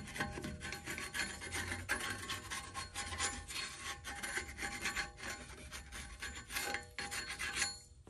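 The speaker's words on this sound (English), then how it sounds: "take a flathead and scrape all this rust and debris out" Flathead screwdriver scraping rust and debris off the brake hub of a BMW 135i N55, a continuous close, harsh rasping scrape in quick repeated strokes with no talk.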